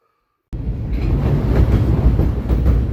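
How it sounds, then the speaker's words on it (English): A freight train rolling through the desert near Rice, California, heard from an empty lumber rack on the last car: after a brief silence, a loud, steady rumble with rhythmic wheel clatter and rattling. "I am out of Rice, California on an empty lumber rack. Last car on the train."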